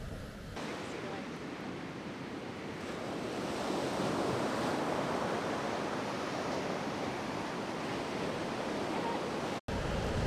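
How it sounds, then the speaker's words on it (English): Choppy, huge ocean waves on a Galicia beach with strong currents, a continuous loud roar of surf that swells gradually, mixed with wind buffeting the microphone. "this side is just so choppy and just huge waves, really strong currents"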